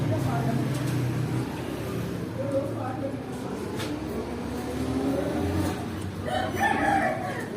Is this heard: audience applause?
no